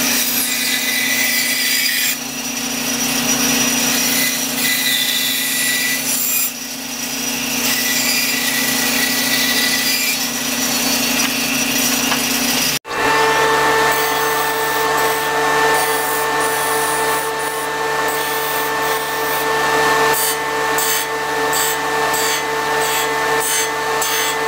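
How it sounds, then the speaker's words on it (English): A bandsaw cuts the sides off an ingot mold pattern, then sanding takes over: continuous loud grinding and rasping with no talk, shifting abruptly to a brighter, pulsing sanding tone partway through. "Bandsaw, cut the sides off, and then went over to sanding them,"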